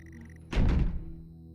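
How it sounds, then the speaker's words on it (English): A single heavy thunk of a door mechanism in the video game Stories Untold, a dull thud with a short rumble following it, over a faint electronic hum. "Open the door."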